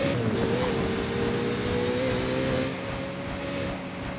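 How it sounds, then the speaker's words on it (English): A fast car in the video game Driving Empire gives a steady high-speed engine drone with a continuous whooshing rush of air that eases slightly near the end. "it actually does like that little whoosh sound effect because it's going really quick"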